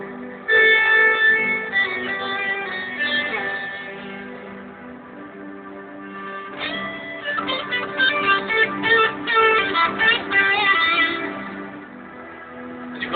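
Distorted electric guitar played from a Roland effects pedal over a sustained synthesized string pad, with a held chord bed and brighter picked notes rising over it in the second half, loud and up close, no talking.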